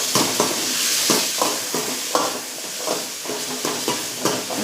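Onions sizzle and hiss in a hot pan for a mutton curry, stirred with repeated scraping strokes every half second or so against a steady frying crackle, close up and with no talking.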